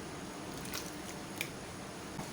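Boiled beef pieces go into a pot of oil for Karachi beef biryani, making a faint, continuous wet sizzle with a few soft squishy plops, no talk.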